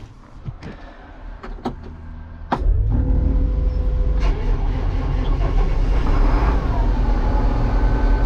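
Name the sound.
engine of newly purchased farm vehicle starting up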